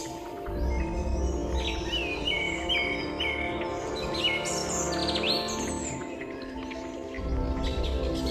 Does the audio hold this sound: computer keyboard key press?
no